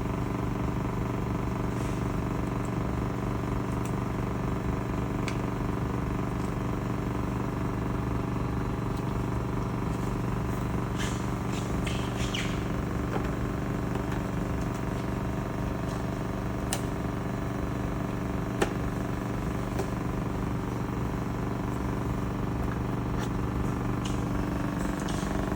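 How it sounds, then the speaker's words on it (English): A spin coater whirs at steady speed while coating a sample with PMMA/MMA resist during device fabrication, giving a continuous, even motor hum with tonal harmonics that holds unchanged throughout, close and alone. "We start the spin coating."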